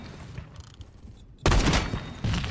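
Gunfire in the shooter game Phantom Forces: a quiet stretch breaks into a loud sustained burst of shots at mid-clip, easing briefly before another heavy burst, with no talk.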